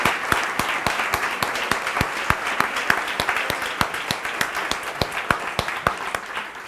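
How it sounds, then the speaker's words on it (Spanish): Applause from a medical conference audience during a panel on caring for the hearts of dialysis patients, with loud, sharp, rhythmic claps standing out against a softer wash of clapping. "casi mereces un aplauso por esta diapo"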